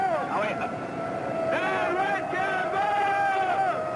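A rioting hockey crowd pushed back by police sounds like a dense roar of many voices, with shouts and whistle-like cries rising over a constant loud babble. It is close and unbroken throughout.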